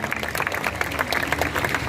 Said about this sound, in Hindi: एक बार जोरदार तालियों से पुनः अभिनंदन करें हमारे